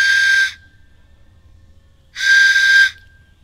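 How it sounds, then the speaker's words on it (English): A homemade whistle carved from a tree branch, blown twice in close, breathy, steady tones, each about half a second long with a clear pitched core over airy hiss, separated by quiet. "we play around with it until we get it to whistle"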